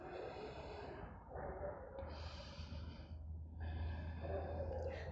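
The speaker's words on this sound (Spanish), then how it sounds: "Una respiración más." Breathing during a yoga exercise, with long audible inhales and exhales through the nose in slow alternating waves, close and soft, over a low steady background hum.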